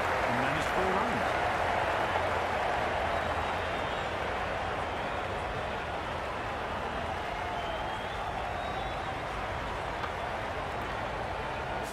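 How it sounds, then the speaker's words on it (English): A stadium crowd roars continuously in the Cricket 22 game on PC, a steady loud wash with some applause under ongoing speech. "Only crowd volume is way too much."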